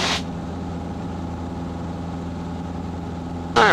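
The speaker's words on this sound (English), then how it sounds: "Engine's making good power." A Cessna 150's small piston engine drones steadily in the cabin during a climb, a loud, even hum that holds without change, with brief bursts of radio or intercom noise at the start and end.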